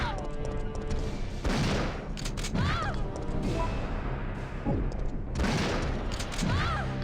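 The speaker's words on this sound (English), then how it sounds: "it feels like shotgun might be a more sensible approach" Shotgun blasts from Resident Evil 3 on the PS1 boom out in loud, separate bursts a second or more apart, mixed with crashing impacts and game noise, with someone talking in between.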